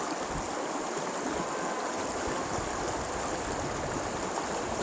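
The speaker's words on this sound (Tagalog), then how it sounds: "Nandito tayo sa ilog Banahaw." Steady broadband rush of flowing water, constant and unbroken, from the Banahaw river running nearby with no voices.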